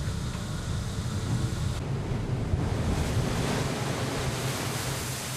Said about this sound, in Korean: 가판 높이까지 파도가 치고 있는 상황.